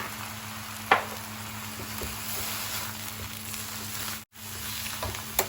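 Soft, steady sizzling of vegetables stir-frying over high heat in an iron wok, with a few scraping stirs and a brief dropout near the end.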